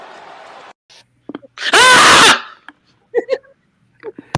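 A person lets out a loud, sustained scream lasting about a second, wavering in pitch, with brief bits of voice and noise before and after.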